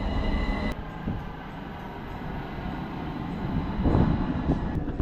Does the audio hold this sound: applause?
no